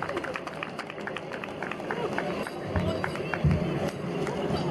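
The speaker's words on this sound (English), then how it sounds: "So give her a round of applause." A crowd at a Myanmar solidarity rally applauds a speaker who is an NHS worker, steady clapping and crowd noise filling the few seconds with some voices mixed in.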